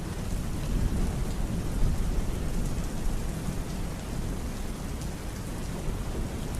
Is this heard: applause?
no